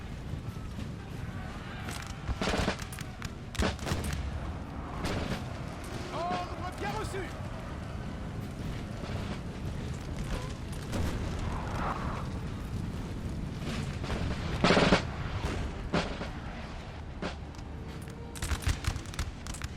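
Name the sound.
artillery firing in video game Napoleon Total War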